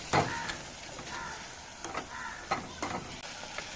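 Onions being stirred and sautéed in a pan for a Kerala-style dish, with a soft, continuous sizzle and irregular scraping strokes of the spoon at moderate distance.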